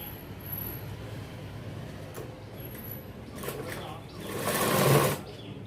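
A sewing machine stitches the folded hem of a 42-inch jacket in a tailoring shop, a faint rapid mechanical whirring and rattling that runs in short bursts and grows louder near the end, with a voice talking faintly beneath.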